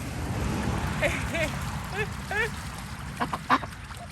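Short nasal quacks from a bird repeat in a loose series over low rumbling background noise, fairly near.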